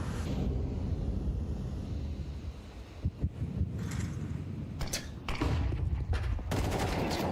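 A volley of gunfire in a Counter-Strike 2 match, a run of sharp, fairly muffled shots in irregular bursts over a steady low background, growing denser toward the end.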